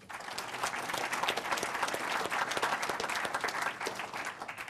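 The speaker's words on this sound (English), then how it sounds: "You can give him a round of applause if you like." A crowd at a panel discussion applauds an introduced panel member, with sustained, even clapping from many hands that stays loud across the whole stretch.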